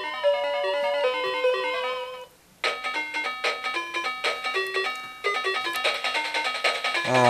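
A Rus Sonata 28 mobile phone plays one of its built-in music box melodies, with clear electronic beeping tones in a quick stepping tune and a short pause partway through.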